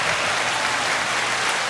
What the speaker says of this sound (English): Can we get a hand clap?